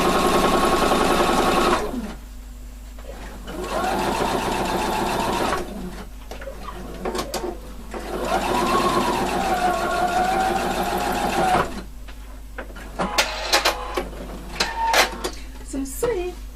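Sewing machine running in bursts as it sews top stitches on fabric, a loud rapid mechanical whir that starts and stops several times, with short pauses and some clicks between runs.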